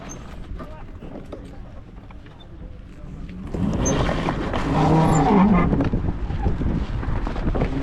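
A go-kart engine drones and rumbles close by during driving, rising in loudness about halfway through with steady wind buffeting, while a voice talks over it.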